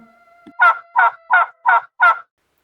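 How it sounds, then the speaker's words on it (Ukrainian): A domestic turkey gobbles in five evenly spaced, loud, close bursts, preceded by a brief faint low call. "Індик. Індичка."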